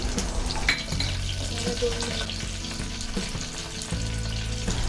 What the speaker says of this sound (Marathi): लसूण हलका ब्राऊन झाल्यानंतर त्यामध्ये आपण घालू सात ते आठ कढीपत्त्याची पाने